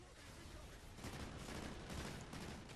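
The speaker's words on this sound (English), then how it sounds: "We're shooting these guys up." Rapid gunfire from players shooting aliens in Call of Duty Extinction, a dense continuous barrage of automatic shots that builds slightly louder midway, with a voice faintly underneath.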